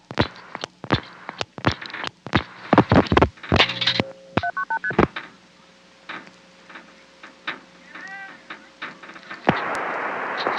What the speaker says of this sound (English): Okay, dialing 1, 255, 1111.